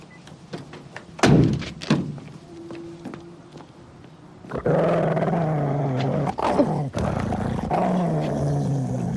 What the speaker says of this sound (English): would you mind calling off your dog?